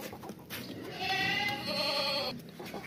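A tall, heavy goat with long ears gives a single drawn-out, nasal bleat lasting over a second, fairly close and clear, with faint background noise and no talk over it.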